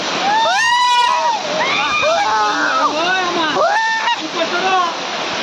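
Water splashes and sloshes as people wade in at an island outing, with excited shouting and chatter loud over the churning water throughout.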